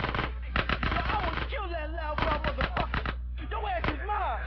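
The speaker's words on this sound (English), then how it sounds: "Because they're going to be shooting you." Rapid bursts of gang gunfire in the video game GTA San Andreas, sharp repeated shots crackling through the scene while a voice talks over the action.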